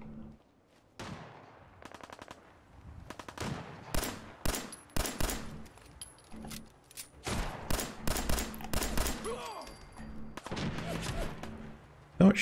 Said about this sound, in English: Hello, gunshots. That means they're friendly, right?